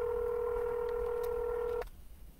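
A steady electronic telephone tone holds for almost two seconds during a cold call, then cuts off to a quiet line with faint noise; no speech.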